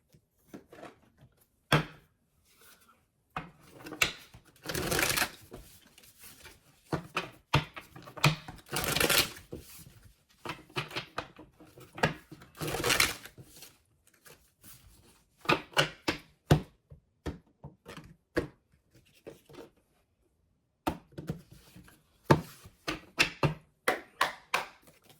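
A deck of tarot cards is shuffled by hand in irregular bursts of soft riffling and slapping, separated by short quiet pauses, close and fairly quiet, with no talking.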